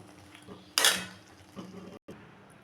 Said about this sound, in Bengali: এখন আমি এগুলোকে সব ভালো করে মিশিয়ে নিয়ে নামিয়ে নেব